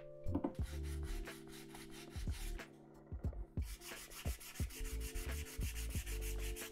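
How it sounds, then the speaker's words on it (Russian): Hand sanding of layered 3D sculpture wall art gives rapid, rhythmic rubbing strokes, close and steady, with no speech. "Может быть, выпустит 10-часовую версию шлифовки?"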